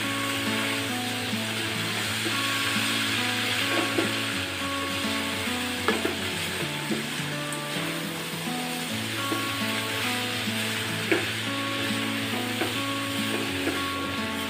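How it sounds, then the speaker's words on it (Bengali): Potato and bitter gourd fry uncovered in a pan for a village-style chorchori. A continuous close sizzle and crackle holds steady under soft background music, with occasional small clicks of stirring and no talking. "এখন একটু ভাজা ভাজা করে নিব।"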